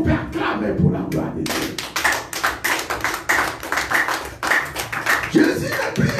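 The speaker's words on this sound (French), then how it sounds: "Est-ce qu'on peut acclamer pour la gloire de Dieu?" A church congregation claps along in a steady rhythmic beat, with cheering voices mixed into the sustained applause.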